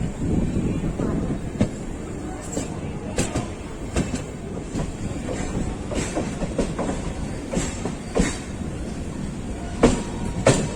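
A stationary local train at Chengalpattu station, with a low continuous rumble, scattered clanks and clicks, and wind noise on the microphone, along with some background voices.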